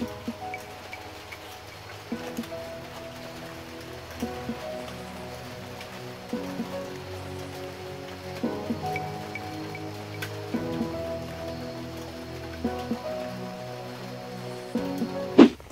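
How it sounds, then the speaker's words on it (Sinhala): Rain falling steadily on a budget camping tent, a soft constant patter with occasional heavier drops and faint tonal background sounds, no talking. "ඔන්න වැහලා නම් ඉවරයි"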